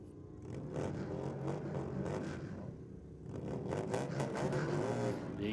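A pair of V-Rod motorcycles revving hard at the drag strip start line at Sydney Dragway's Bike Night, a loud sustained engine roar with rising and falling revs, dipping briefly before surging again.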